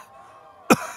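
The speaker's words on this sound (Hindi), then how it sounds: "बहुत भयंकर खांसी है" A single sharp, harsh cough bursts out near the end after a quiet stretch, close and loud.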